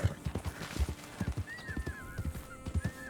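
Horse hooves clip-clop in a steady walking rhythm in Red Dead Redemption 2, close and moderately quiet, with faint whistling bird-like calls above and no talk.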